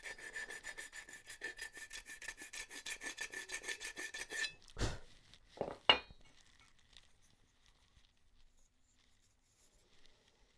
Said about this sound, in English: What I'm doing is using my miter box to make it perfectly perpendicular and flat.